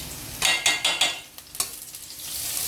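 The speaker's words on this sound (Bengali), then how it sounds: "বেশি ভাজবো না, নুডলসের পেঁয়াজটা বেশি ভাজা হয়ে গেলে নুডলসটা খেতে ভালো লাগে না।" Onion and green chili frying lightly in a pan for noodles, with soft sizzling and a few clattering stirs near the start, then a steady quiet hiss.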